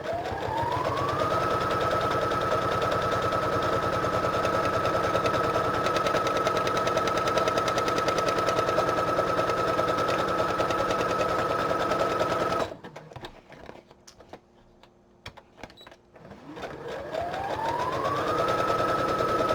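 A sewing machine runs a narrow, long zigzag stitch in a fast, steady mechanical rattle that revs up, holds for about twelve seconds, stops briefly with quiet handling noises, then spins back up.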